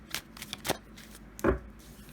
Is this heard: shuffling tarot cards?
yes